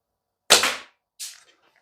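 Two sharp shots from an ASG Action Army T-11 spring-powered bolt-action airsoft rifle fired at a target outdoors, a loud crack followed by a second softer snap about three quarters of a second later, with silence around them.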